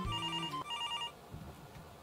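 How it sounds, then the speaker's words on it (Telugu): A phone in an animated story rings with an electronic ringtone, two short bursts of bright repeating tones close up, followed by quiet room noise. "ఈ టైంలో ఎవడు ఫోన్ చేస్తున్నాడు?"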